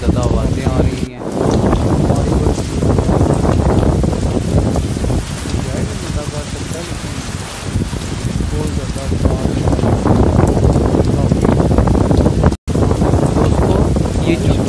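Heavy rain and strong wind at the docks make a dense, loud roar, with gusts buffeting the microphone in steady waves and one brief dropout.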